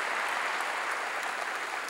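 Church congregation clapping during a Korean sermon, a dense, even burst of many hands applauding together for a couple of seconds with no voice over it.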